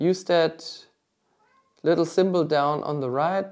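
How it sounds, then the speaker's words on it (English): A house cat meows in the background, its tonal cries overlapping with someone speaking nearby, the sound clear but intertwined with his talk. "That was my cat in the background."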